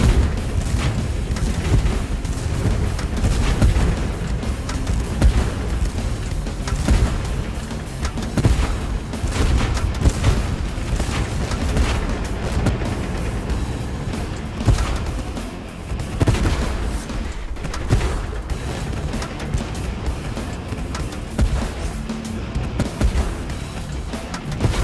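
Artillery bombardment rages in the tank combat game Tank Force, with heavy booms and blasts overlapping in a continuous, loud barrage across the whole stretch and no letup.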